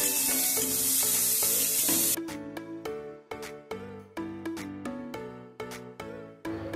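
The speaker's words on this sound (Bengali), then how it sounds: "সর্ষে ফোড়ন দিয়ে এবার পেঁয়াজ এবং কাঁচা লঙ্কা কুচিটা তেলের মধ্যে দিয়ে দিলাম।" Chopped onion and green chilli tossed into hot oil in a wok after mustard seeds have been tempered, a loud burst of sizzling followed by a series of sharp clattering stirs and scrapes.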